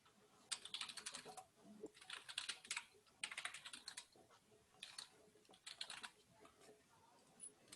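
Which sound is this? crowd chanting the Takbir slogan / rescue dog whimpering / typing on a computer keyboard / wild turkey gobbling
typing on a computer keyboard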